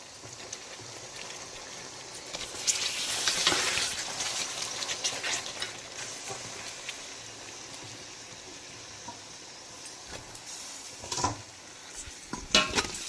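Boiled chalta fruit tipped into melted jaggery with dried chillies in a pan, followed by quiet scraping stirs and soft bubbling, with a louder spoon-and-pan scrape near the start and occasional clanks.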